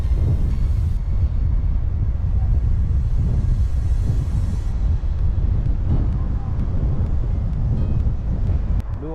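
Strong wind buffets the microphone beside a river during winter fishing, a constant loud low roar with gusty swells throughout.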